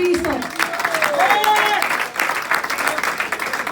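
Steady applause from a church congregation with clapping throughout, while a preacher's voice rises and falls over it.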